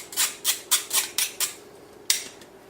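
The back of a spoon pushes cocoa powder through a metal sifter for brownie batter, making six quick rhythmic scraping rasps, then a pause and one more stroke, close and fairly quiet.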